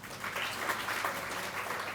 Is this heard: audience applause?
yes